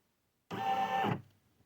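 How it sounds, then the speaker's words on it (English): A computerized embroidery machine traces a left chest design outline on a polo shirt, giving a steady mechanical whir with a faint tonal hum that starts abruptly, runs for about half a second, then stops. No one talks. "And so now it is tracing the design."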